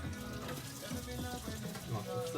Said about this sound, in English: then go and rinse your hands